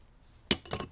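Steel and friction clutch plates from a Ford 8.8 Trac-Lok differential are stacked together, giving two quick close metallic clinks in under a second, alone with no talk.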